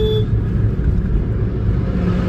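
A car driving on a highway gives a steady, close, low road rumble and engine drone that stays even throughout.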